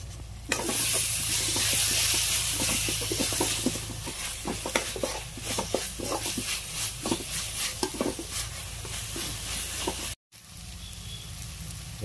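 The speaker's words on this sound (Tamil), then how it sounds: "வெங்காயம் தக்காளி நல்லா வதங்கிடுச்சு." Onions and tomatoes sauté in a pan with a little turmeric for a village-style goat brain pepper fry, giving a steady close sizzle broken by repeated scraping stirs before a brief cut.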